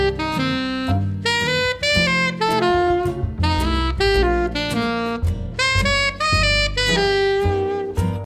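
Saxophone phrases built on enclosures, with double chromatic approach tones from below and a single diatonic tone from above, played loud and up close over a steady backing, a continuous run of short lines with brief breaks between them.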